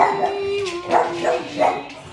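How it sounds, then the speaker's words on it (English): A pet dog barks and yips excitedly at another dog on a television indoors, several sharp close barks over about two seconds, with a faint whine between them. "my dog just saw another dog on the television and she's going crazy because of that"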